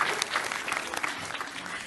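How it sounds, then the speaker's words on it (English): Audience clapping steadily at a distinguished academic lecture, a dense, even burst of applause from a crowd in a hall. "Oh, let's clap again, please."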